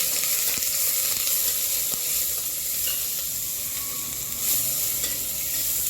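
Ivy gourd and garam masala stirred in a pan, a steady sizzle of frying with faint scraping of the spoon, close and continuous without speech.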